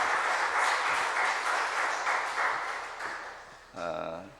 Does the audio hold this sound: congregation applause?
yes